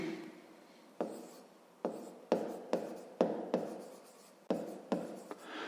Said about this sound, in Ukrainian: Давайте так і запишемо.